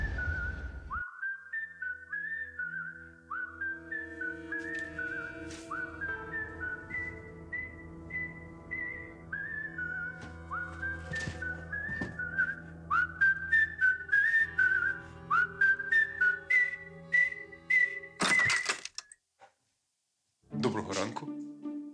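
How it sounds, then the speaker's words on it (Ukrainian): A man whistles a melodic tune indoors, near and clear, in phrases with short pauses and some faint clatter and knocks underneath. "А минулої осені я знову почула цей свист."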